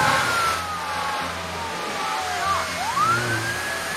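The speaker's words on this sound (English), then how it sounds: "Oh, there comes our fire truck. It does get a little loud when you zoom in." A fire truck siren wails and sweeps up and down in the SimCity video game, loud and close as the camera zooms in, over a low engine hum and traffic bed.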